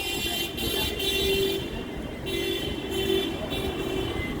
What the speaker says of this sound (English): Sorry about the hooting.